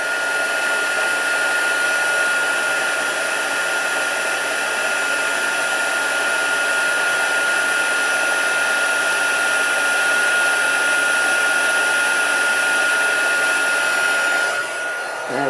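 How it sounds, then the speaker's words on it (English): Embossing heat tool blowing to melt chocolate, a loud steady airy whirring hum that runs unbroken for about fifteen seconds before cutting off at the end. "heat up your embossing, your heat tool, and getting rid of chocolate that melts"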